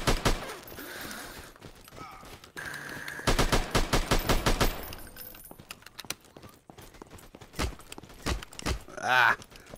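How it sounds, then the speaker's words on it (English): Gunfire in the multiplayer shooter Alvo during a free-for-all match. Several bursts of rapid automatic fire are close and loud, separated by short pauses, with a last crackle of shots near the end. "Somebody shooting me from the back."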